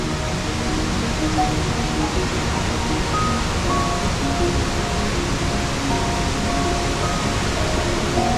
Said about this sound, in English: So this waterfall used to run underneath the glacier.